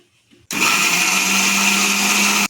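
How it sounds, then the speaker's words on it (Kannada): A kitchen mixer grinder whirs at full speed grinding garlic, ginger and milk into masala for kabuli chana kurma, starting abruptly, running loud and steady at close range, then cutting off. "ರುಬ್ಬೋದಕ್ಕೆ ಈ ಹಾಲೆ ಹಾಕಿ ರುಬ್ತೀನಿ ನಾನು"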